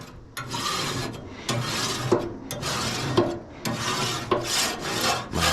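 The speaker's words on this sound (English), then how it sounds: "take your scraper and just scrape off your grates" A scraper rasps across the grates of a Pit Boss pellet smoker in repeated back-and-forth strokes, a loud, close, gritty scraping about once a second.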